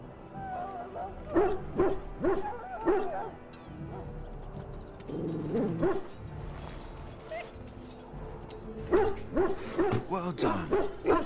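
A hound in the video game Dragon Age: Origins barks and yips in short bursts, with softer whimpering between, over a quiet game backdrop.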